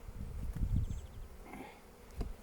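Honeybees buzz in an open hive during an inspection, a close, steady hum with brief louder swells.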